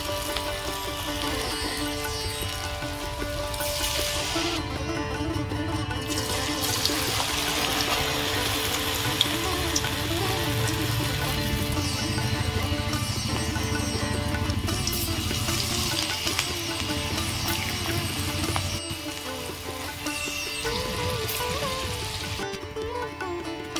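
Bitter gourd pakoras deep-frying in hot oil give a steady, dense crackling hiss that runs loud and unbroken throughout, close to the listener, with no voices.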